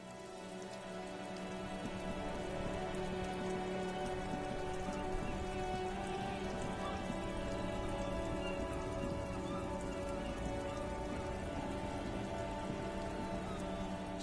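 Steady rain pours down in the video game Disco Elysium, a dense, even hiss of drops on surfaces that swells in over the first two seconds and then holds constant, with no talking.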